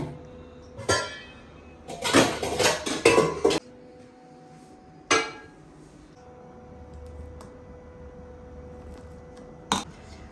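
Washed dishes and pots clatter and clink as they are stacked away in a home kitchen, with a dense burst of metallic knocks in the middle and a few isolated clanks before and after, no talking.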